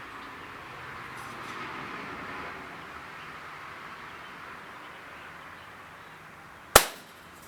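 A single sharp crack of a BB rifle, a Daisy Red Ryder or Crosman Marlin Cowboy, comes near the end after a long stretch of steady outdoor background noise.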